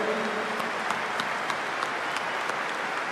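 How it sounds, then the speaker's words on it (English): A stadium crowd at Anfield applauds steadily during a Liverpool title celebration, a dense wash of clapping that holds at an even level throughout. "we should give them a big round of applause as well"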